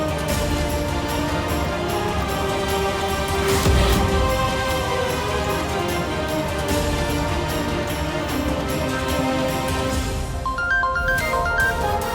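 A phone rings with a repeating electronic ringtone pattern during a call in a Hindi drama series, steady and fairly loud over background music, with a few brief higher tones near the end.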